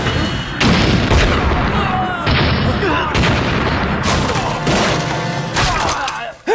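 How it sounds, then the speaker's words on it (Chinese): In a Chinese anti-Japanese war drama, a series of explosions and heavy blasts hit at irregular intervals, loud and close, with crackling debris and commotion between the booms. "爆炸"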